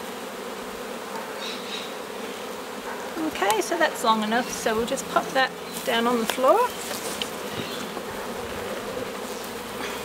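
Honey bees hum steadily around an opened hive during a brood inspection, a continuous low buzz under someone talking close to the microphone.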